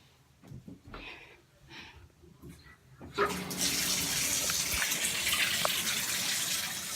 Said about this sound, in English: so I'm gonna turn on the water.